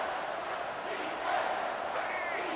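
A stadium crowd in the EA Sports College Football 25 video game roars steadily on a third-down play, a broad sustained distant cheer that swells slightly midway, without clear speech.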